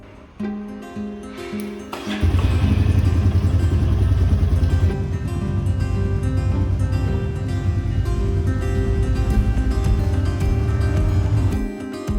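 Motorcycle ridden onto a French highway toward Auxerre, the engine idling briefly before a loud sustained drone of cruising with heavy wind rush, close and continuous throughout.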